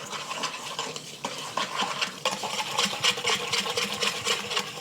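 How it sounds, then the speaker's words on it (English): A spoon stirs and mixes Chinese BBQ rib marinade containing sesame oil in a bowl, giving irregular clinks and scraping taps that continue throughout with no talking. "we're going to stir this and mix it up"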